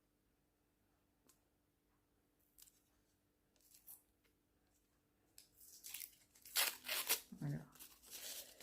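Stuck, damp paper being peeled apart and torn, quiet rustling at first, then a louder stretch of ripping and crinkling near the end, with a brief voice speaking.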